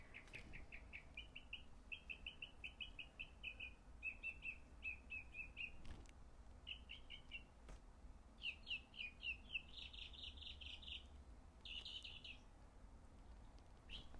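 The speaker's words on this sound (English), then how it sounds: "What could I possibly do to improve on birds singing and chirping?" Birds sing and chirp in quick repeated trills and twittering phrases, fairly faint and somewhat distant, over a low steady background hum with no talking.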